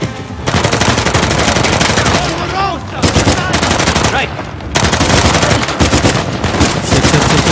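Rapid automatic gunfire from the video game Uncharted: The Lost Legacy, loud and dense, coming in sustained bursts separated by a few brief lulls.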